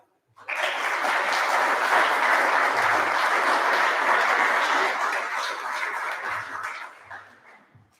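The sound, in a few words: audience applause for student citizenship nominees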